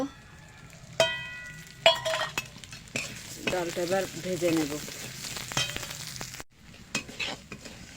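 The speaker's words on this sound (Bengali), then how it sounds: "ডালটা এবার ভেজে নেব" Moong dal toasts in a pan with intermittent sizzling and the clink and scrape of a metal spoon against the pan, the stirring strokes irregular and close, with a faint voice in the background.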